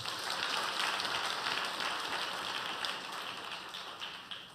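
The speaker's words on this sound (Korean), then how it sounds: "저들을 위해서 격려의 박수 한번 부탁드립니다" Congregation in a church applauding in encouragement, a steady dense wash of many hands clapping that holds for several seconds and then gradually fades, filling the room without any voices.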